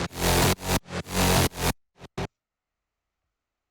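A bass house lead synth plays buzzy, bright stabs in short rhythmic bursts, loud and upfront, then cuts off abruptly into near silence with two brief blips.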